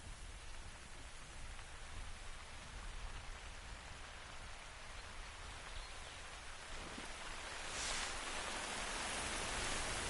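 Rain falling steadily outdoors in the wild with wind picking up, a continuous dense hiss that swells louder toward the end.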